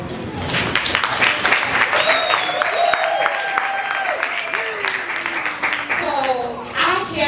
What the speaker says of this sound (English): I want you all to give a round of applause to yourselves